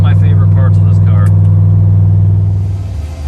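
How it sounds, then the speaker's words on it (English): A turbocharged LS-swapped Ford Crown Victoria with a TH400 transmission idles with its exhaust cutout open, giving a loud, deep steady rumble that fades slightly at the end, with someone talking over it at first. "with the cutout open, it does get a fair amount louder."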